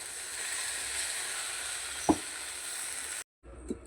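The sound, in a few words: frying egg with pepper and tomato sauce for rice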